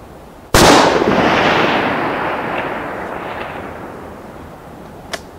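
A single loud .308 Winchester rifle shot fired with a Federal 210 primer load cracks sharply, then a long rolling echo decays over several seconds, with a faint click near the end; no talking.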